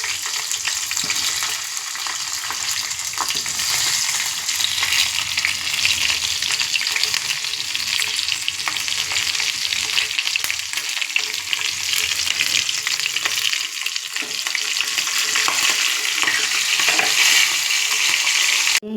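Green chillies and coriander fry in hot oil for a brinjal pachadi, a loud, continuous hissing sizzle with faint stirring scrapes, no voices.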